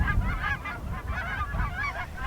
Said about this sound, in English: And of course there were geese.